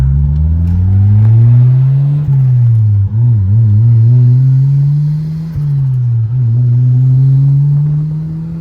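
A turbocharged Honda S2000 making about 340 horsepower accelerates hard on a test drive, its loud engine note climbing through the gears with brief dips at each shift, heard from inside the car with no talk.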